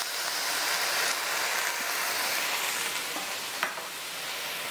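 Seafood pasta with oyster sauce and soy sauce stir-fries in a hot pan, a steady loud sizzle with faint scraping stirs throughout, no talk.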